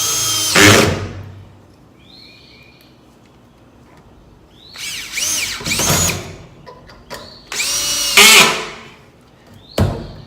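A power drill drives 3-inch screws into a 2x4 and a pre-drilled 4x4, sounding as several loud whirring bursts of a second or so separated by quiet gaps, with faint birdsong in the background.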